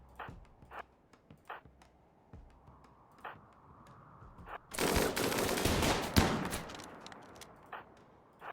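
A minigun in RimWorld lets loose a dense, sustained roaring burst of rapid fire midway, set among scattered sharp single shots of game combat, moderately loud.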